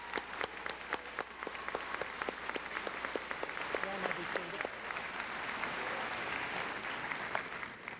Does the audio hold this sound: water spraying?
no